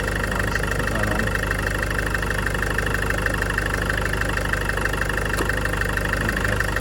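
A Land Rover Freelander 2 engine idles with a steady, even drone that holds throughout, with no talking over it.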